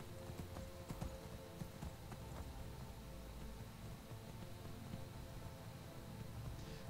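Steady clip-clop of horse hooves in the video game Skyrim over a constant background hum, with occasional sharper clicks; no talking.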